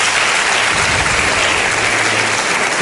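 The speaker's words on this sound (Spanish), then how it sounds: "para el cual os pido un aplauso a todos los que estéis aquí con nosotros" Loud, dense applause from a live audience welcoming a guest onto a Spanish talk event stage, a steady wash of many hands clapping throughout with no speech.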